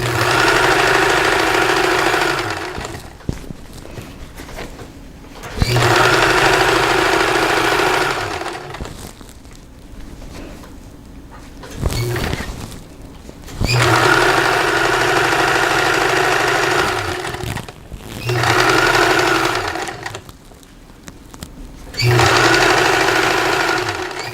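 A home sewing machine stitches the seams of a pillowcase, its motor whirring loudly in several long runs separated by brief pauses, close and alone without talk.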